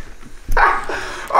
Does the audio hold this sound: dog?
yes